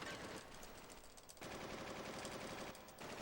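Video game gunfire during a Final Fantasy 8 escape sequence on the PlayStation disc version, rapid dense bursts like machine-gun fire filling the whole stretch, with brief dips between volleys.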